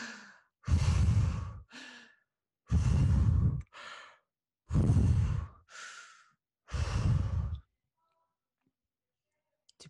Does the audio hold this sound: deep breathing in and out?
yes